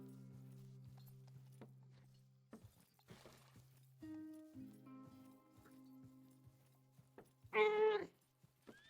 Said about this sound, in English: Luna, do you hear the kitty?